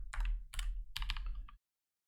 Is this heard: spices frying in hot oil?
no